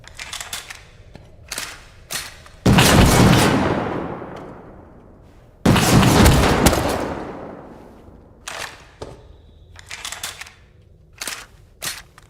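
Two loud shotgun blasts in the game Rust, each with a long decaying tail, separated by a few seconds. Lighter clicks and ticks of in-game activity sit between and after them.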